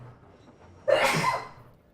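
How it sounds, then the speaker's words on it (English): A single sharp sneeze bursts out from a man during a relaxed gaming stream, close and sudden after a quiet moment, then fades quickly. "I'm gonna sneeze, sorry."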